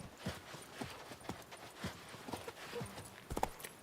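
The horse Roach walks in the video game The Witcher 3: Wild Hunt, with evenly spaced, fairly soft hoofbeats at a relaxed pace over quiet ambience.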